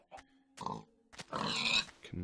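Pigs grunt in a Minecraft-style video game, with several short snorting grunts and a longer squealing oink, close and clear between quiet gaps.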